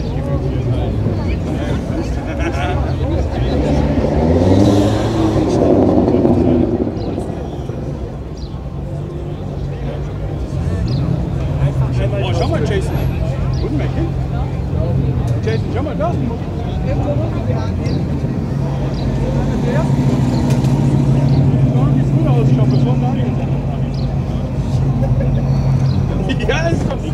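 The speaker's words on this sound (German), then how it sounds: "noch mal den Motor laufen lassen" At a car show in Biberach in 2024, a car engine runs at a steady idle, a continuous low rumble with a brief swell, while people talk nearby throughout.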